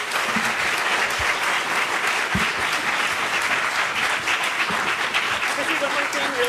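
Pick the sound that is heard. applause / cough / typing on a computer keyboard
applause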